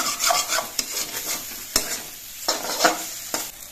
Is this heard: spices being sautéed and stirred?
yes